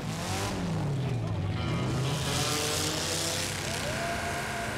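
A demolition derby car's engine is held at full throttle, roaring loud and close with its pitch rising and falling, while faint voices sit under the noise.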